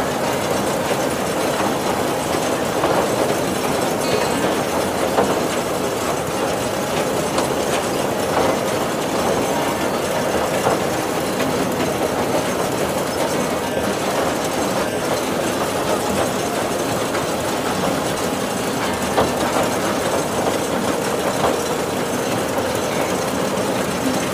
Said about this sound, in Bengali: একের পর এক স্টেশন ক্রস করে আমাদের টয় ট্রেন এগিয়ে চলেছে।